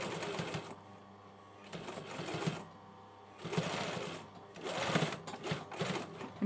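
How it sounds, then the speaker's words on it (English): A sewing machine stitching a buttonhole and cord casing on hoodie fabric, its rapid mechanical whirring running in bursts that start and stop, close up, with short pauses between runs of stitches. "I still want the bobbin to catch the fabric through"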